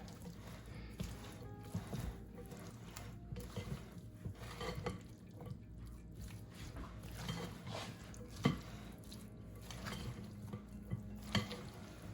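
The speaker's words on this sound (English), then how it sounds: "And then I'm just going to stir this all up and see if it comes together." Seafood salad dressed with lemon juice and mayonnaise is stirred in a bowl, soft wet squelching and gentle scraping with occasional light taps, close and quiet throughout.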